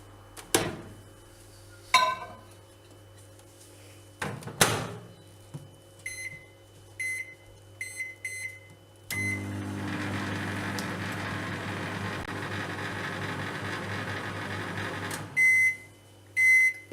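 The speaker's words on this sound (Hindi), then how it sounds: "अभी मैं माइक्रोवेव में 1 मिनट के लिए रखूँगी।" A microwave oven heating rice gives a few clicks and short beeps as its door and keypad are used. It then hums steadily while running, and more beeps follow near the end, all close and moderately quiet.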